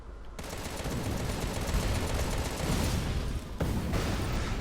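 Dense, continuous rapid-fire gunfire and explosions from shooting in the video game Contra: Rogue Corps, loud and relentless with no pauses.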